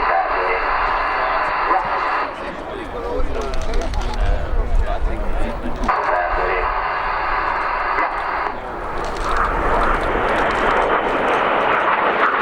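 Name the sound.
Frecce Tricolori Aermacchi MB-339 jets flying in formation display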